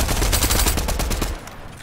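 Rapid submachine gun fire in a video game, a dense stream of sharp shots rattling steadily for over a second before cutting off.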